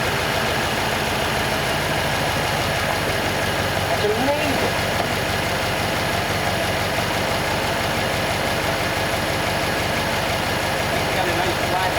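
A 1939 Ford convertible's flathead engine idles steadily after years sitting abandoned in a barn, a continuous low rumble throughout, with people talking over it.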